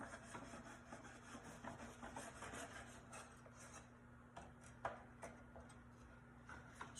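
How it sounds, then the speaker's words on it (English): A knife saws through a loaf of homemade bread with soft, quiet rasping strokes and faint ticks of the crust, very low in level over a steady background hum, with no voices. "Slicing, and every couple slices I will have to move up."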